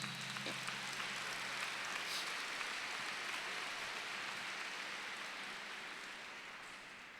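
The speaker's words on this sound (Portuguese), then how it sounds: "Eu convido você a aplaudir, porque é para você essa palavra" A church congregation applauds at a Pentecost vigil, a dense, even wash of clapping that fades gently toward the end.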